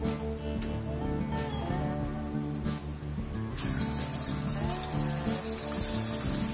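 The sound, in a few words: small pakodas frying in hot oil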